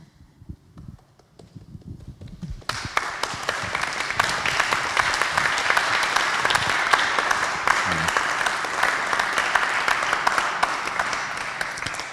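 Audience applause thanking round-table speakers at an event on ecology, activism and spirituality; a few scattered claps open it, then full dense clapping swells in and holds steady to the end, with faint voices underneath.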